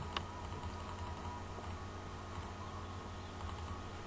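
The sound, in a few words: typing on a computer keyboard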